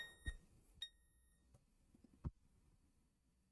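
A few short electronic beeps from a device, the first two close together and a third about two seconds later, fairly quiet against a soft background.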